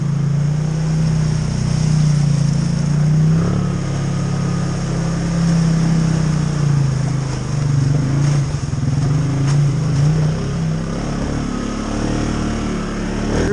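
Can-Am Outlander XMR 700 Gen 3 ATV engine running on a trail with the front locker engaged, a steady loud drone that holds at a constant pitch throughout, no voices.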